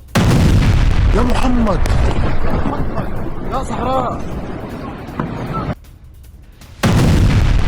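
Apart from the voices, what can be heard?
Iranian missile explosions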